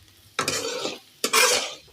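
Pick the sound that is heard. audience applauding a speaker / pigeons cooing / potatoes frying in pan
potatoes frying in pan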